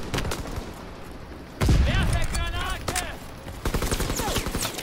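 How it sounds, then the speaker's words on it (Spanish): Rapid gunfire and sniper shots from the World War II shooter Call of Duty WW2 crackle in dense bursts, loud and close, with a short lull before heavier volleys resume. "Me está disparando."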